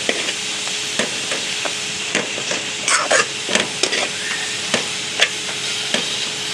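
Spice masala with turmeric and coriander frying for a karahi, loud steady sizzling broken by repeated sharp scrapes and clinks of a stirring spoon against the pan.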